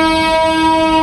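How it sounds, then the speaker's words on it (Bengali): The Meghna Express sounds a steady, loud train whistle as it departs, a sustained tone held unbroken through the whole second with no voices. "ট্রেন ছেড়ে কত দূর যাওয়ার পর তারপর হুইসেল দিল"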